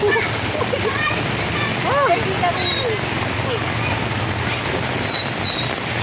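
Heavy rain and rising flood water splash and rush loudly on a street, a dense continuous roar up close, with voices talking and calling over it.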